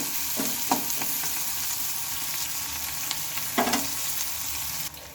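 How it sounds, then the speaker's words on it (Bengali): Leftover rice sizzles steadily in a hot pan while a spatula stirs and scrapes it a few times, close and continuous, with no voices. "এইভাবে একটু নেড়ে চেড়ে নিতে হবে আর হালকা আছে এটা একটু ভেজে নিতে হবে"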